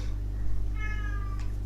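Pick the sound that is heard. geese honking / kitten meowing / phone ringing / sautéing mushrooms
kitten meowing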